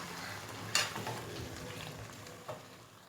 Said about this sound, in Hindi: जितना ज़्यादा आप इसे भून सकते हैं भून लें, जितना आप भूनेंगे उतनी ही ये टेस्टी होती है।